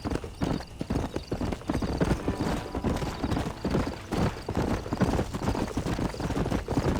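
Horses ride through the Red Dead Redemption game world with a steady, quick clip-clop of hooves close by, the rhythm continuous throughout, with a faint whinny and no talk over it.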